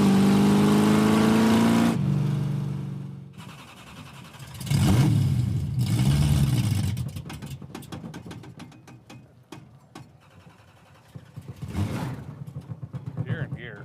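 Classic Dodge Coronet idling and pulling away on a drive in Missouri, the engine's mid-pitched drone rising and falling as it moves, loud and close, with people talking over it.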